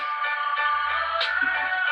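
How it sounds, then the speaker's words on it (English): A phone ringtone plays as a steady, tonal electronic melody at moderate volume, continuing throughout with a faint low hum beneath it and no talking. "that's my phone"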